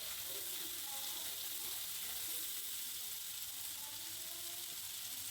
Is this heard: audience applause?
no